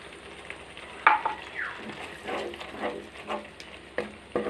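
Masala sautéed in a pan with cashew paste and yogurt for a prawn curry: a close, steady sizzle and frying hiss with intermittent scraping stirs.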